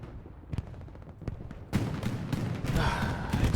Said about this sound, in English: Explosion in inner city? Was that a tank?